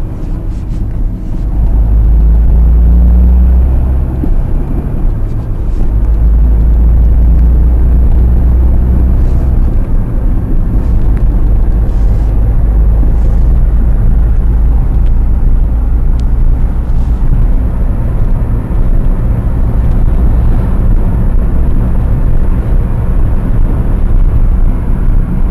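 A Ford Puma with a 130 hp engine idles and runs with a loud, steady low rumble throughout, holding a dense, constant drone with no pauses and no talking.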